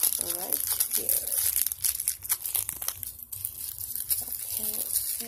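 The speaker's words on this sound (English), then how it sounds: "this one's in a little bit of plastic. Just gonna have my handy scissors right here." Scissors cut plastic wrapping on a jewelry piece from an Avon unboxing, making close, crisp crinkling and snipping noises with a few brief soft vocal sounds.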